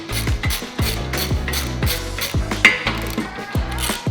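A ratchet with a 1/2 inch socket works the roof rack mount bolts on a 2010-2021 fifth-generation Toyota 4Runner, giving a close, loud series of quick metallic clicking bursts in a repeated back-and-forth rhythm.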